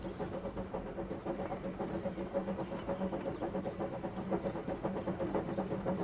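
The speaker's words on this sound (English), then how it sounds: "as Maid Marian pulled her train at the legal limit of 12 miles an hour along the lake edge" Narrow gauge steam locomotive hauling its train at about 12 mph along a lakeside line on the Bala Lake Railway, giving a steady rumbling, rhythmic chuffing and rail clatter throughout at moderate level, with no talk.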